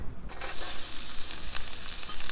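Shredded carrots hitting hot olive oil, a sudden bright sizzle that starts abruptly and keeps crackling and hissing steadily, close and fairly loud, with no voices.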